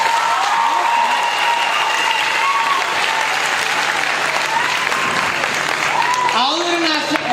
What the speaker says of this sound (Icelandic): Má ég fá klappið því?